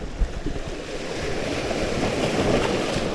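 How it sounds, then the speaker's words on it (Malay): Strong ocean waves surge and wash continuously while fishing from murky water, a steady roaring surf with wind noise across the microphone and no voices. "Ombak masih kuat"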